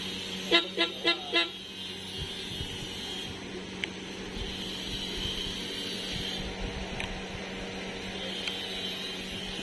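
Horn on a modified Vespa scooter fitted with a DC horn and remote starter, giving four quick toots in a row, then a steady engine idle with background noise.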